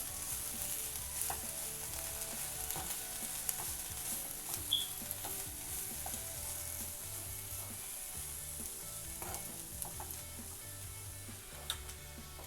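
Food sizzles quietly in a frying pan while a utensil stirs and scrapes through it in irregular strokes, the hiss steady beneath the scattered clicks.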